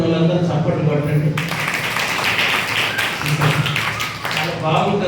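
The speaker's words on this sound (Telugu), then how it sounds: "ఒప్పుకున్న వాళ్ళందరూ చప్పట్లు కొట్టండి" A church congregation applauding during a Sunday worship service, broad, steady clapping from many hands that swells and continues for several seconds, mixed with a voice speaking over it.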